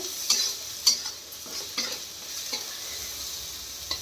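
Chilli powder and ground coriander being stirred in a pan for stuffed capsicum filling, with repeated scraping strokes of a spoon against the pan over a soft background sizzle.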